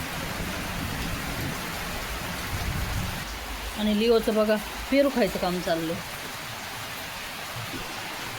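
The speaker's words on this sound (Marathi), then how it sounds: "बघा किती पाऊस येतोय पाऊस काही थांबायचं नाव घ्याय नाही" Heavy rain pours steadily in a village during the monsoon, a constant loud hiss of downpour beneath someone talking in the middle of the clip.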